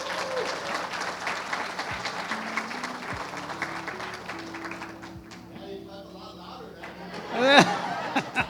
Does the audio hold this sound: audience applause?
yes